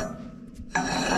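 A half-inch steel sleeve slides over the fork of a lift, giving a harsh metallic scraping rasp that drops away briefly and then resumes loud and steady, close up with no talk.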